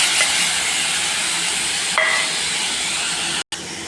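Onions and tomato paste fry in a pan with a steady, loud hiss and sizzle, close and continuous, briefly cut off near the end.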